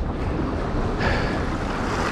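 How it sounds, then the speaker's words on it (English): Ocean waves surge at Mavericks Beach as high tide comes in, a loud, constant roar of surf mixed with gusty wind buffeting the microphone, with no voices. "these waves are kicking up as high tide is coming in"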